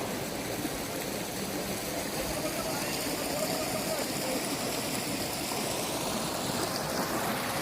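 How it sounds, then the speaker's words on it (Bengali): A river in full flow, water rushing and pouring down heavily, a steady close roar of broadband noise that holds constant throughout with no break. "দেখো জলটা কত সুন্দরভাবে মোটা হয়ে পড়ছে"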